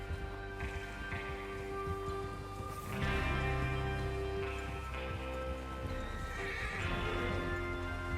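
Horses whinny and snort in Red Dead Redemption 2 over a steady clip-clop of hooves, with a soft rain-like patter underneath and a low musical drone.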